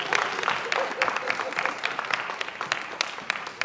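Audience applause during a virtual concert, a dense continuous patter of many hands clapping at steady volume throughout.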